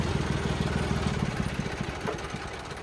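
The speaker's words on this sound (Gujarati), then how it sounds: "જરાક તમારા ટ્રેક્ટર બંધ કરશો" John Deere 5310 tractor engine running close by, a loud, steady diesel chug with fast regular pulses that eases slightly toward the end.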